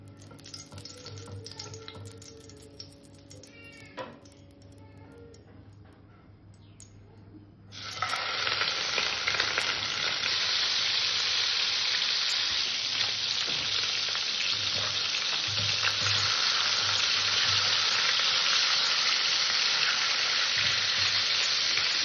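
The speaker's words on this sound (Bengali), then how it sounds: "এবার মাছগুলো সুন্দর করে ভেজে নেব।" Pieces of katla fish drop into hot oil in a wok on a gas stove and set off a loud, steady sizzle that runs on continuously, preceded by quieter kitchen sounds.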